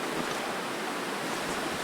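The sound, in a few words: wind outside, from video game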